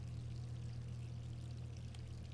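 Water runs steadily from a tap in the Resident Evil 3 Remake video game, a soft, continuous pouring stream heard faintly and alone.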